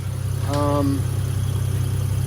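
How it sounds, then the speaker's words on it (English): A Toyota Aristo's 2JZGTE VVTi engine idles smoothly with a steady low drone, while a brief voice-like tone rises over it once. "It idles nice and smooth, has very smooth idle on cold starts."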